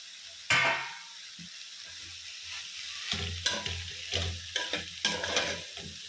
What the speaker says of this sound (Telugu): ఇప్పుడు కాకరకాయ ముక్కలు ఇందాక ఫ్రై చేసి పక్కన పెట్టాం కదా, అవి వేసుకుందాము.